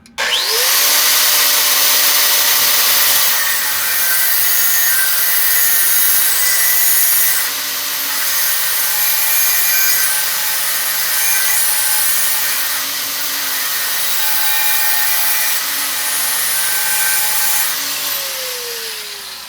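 A power tool bites into a knife handle for a Damascus knife to cut a notch for a threaded rod, a loud steady whining grind that spins up sharply, holds for about eighteen seconds and winds down.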